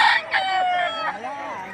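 A rooster at a chicken sale lets out one loud, close crow, rising and drawn out before it trails off.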